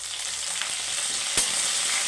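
Chillies, curry leaves and onion tempering in hot oil, giving a steady close frying sizzle with faint stirring scrapes and one sharp clack partway through.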